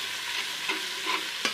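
Garlic ginger paste is frying with golden onions in a pan, making a steady sizzle with a few soft scrapes of stirring. It is close and moderately loud, and no one speaks.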